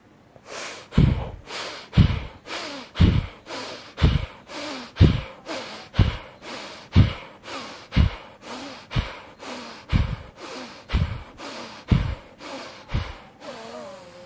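Forceful, sharp nasal exhalations during a kapha yoga breathing exercise repeat at a steady pace of about one per second. Each is a close, loud puff followed by a brief quiet inhale, and the pattern continues for over a dozen cycles.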